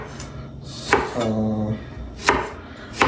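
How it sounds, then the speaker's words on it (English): Cabbage is chopped with a knife on a cutting board while cooking Kenyan food, with several sharp, close, evenly spaced knocks of the blade, plus a brief spoken word at the start and a short sustained tone partway through. "we're just chopping cabbage here"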